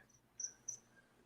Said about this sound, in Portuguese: tem outro grilo aqui fazendo uma zoada danada